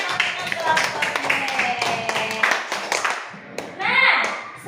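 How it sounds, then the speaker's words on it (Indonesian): Children in a classroom clap their hands after a group presentation, a scattered, rhythmic burst of close claps with an adult voice and children's voices mixed in. "tepuk tangan untuk kelompok D."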